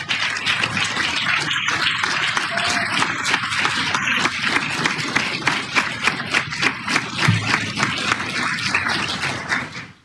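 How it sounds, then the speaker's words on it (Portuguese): Audience applause at a formal Brazilian ceremony speech: steady, dense clapping from a large crowd that runs the whole stretch and then cuts off abruptly at the end. "Minhas cordas vocais também agradecem a pausa dos aplausos."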